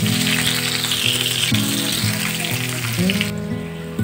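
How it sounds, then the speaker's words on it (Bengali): Sliced onions fry in a pan for a sea crab dish, giving a steady, close sizzle that runs the whole time over a tonal musical backing, with no talking. "এবার দুটো পেঁয়াজ নিয়েছিলাম কেটে নিয়েছি, সেটা দিয়ে দেবো। ভালো করে ভেজে নেব।"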